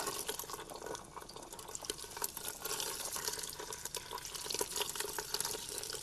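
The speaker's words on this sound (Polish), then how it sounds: "Teraz trzeba ptaszki obsmażyć na ostrym ogniu ze wszystkich stron." Stuffed quails frying over high heat in very hot olive oil in a pan give off a steady, dense crackling sizzle that runs evenly throughout, close and unbroken, with no talk.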